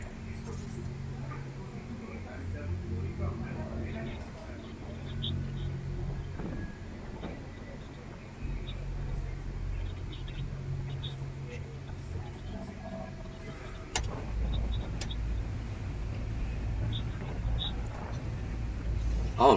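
Ferry from Isla Mujeres to Cancun underway, a low steady engine rumble mixed with wind buffeting and water rush, growing louder toward the end, with someone talking over it.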